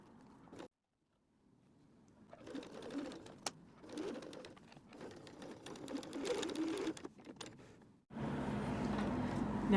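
A home sewing machine runs in several bursts of rapid stitching on fabric for a water bottle sling, stopping now and then, with a louder steady run at the end.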